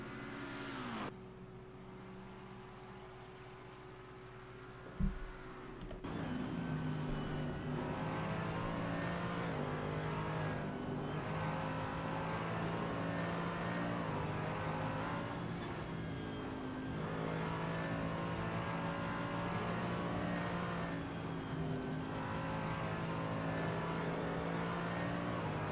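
Race cars lap the Mugello circuit in the simGT racing game, a steady engine drone that shifts after a brief click, then holds a continuous whining note with gear changes throughout, no talk.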